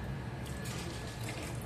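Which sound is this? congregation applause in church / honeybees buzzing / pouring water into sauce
pouring water into sauce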